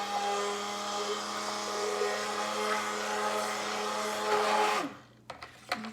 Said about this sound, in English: So what I'm gonna do is start blending